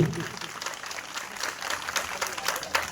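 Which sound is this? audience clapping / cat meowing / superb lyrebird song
audience clapping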